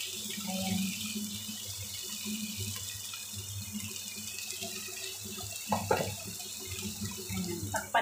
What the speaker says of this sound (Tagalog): pwede mo rin din siya lagyan ng konting tubig para mabilis maluto